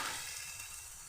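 Arum and egg curry in a pan hisses and sizzles faintly and steadily as water is added, with no voices.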